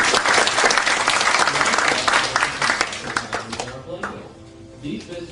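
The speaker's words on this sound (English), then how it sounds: "give these fine people a much-deserved round of applause" A theater audience at a stage production of Narnia applauds loudly in a dense, continuous burst that thins out after a few seconds as a voice begins speaking.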